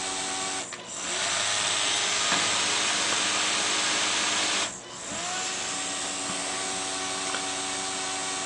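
A small fischertechnik electric motor powered by wire, running with a steady bright whirring whine that briefly dips twice before resuming, close and continuous.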